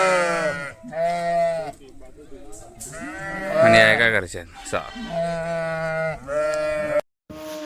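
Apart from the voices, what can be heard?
sheep bleating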